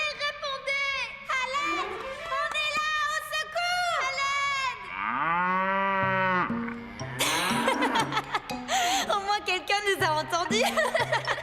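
Cartoon cow lowing in long, drawn-out moos with a bending pitch, set among animated character voices and light chuckling, close and fairly loud against background music.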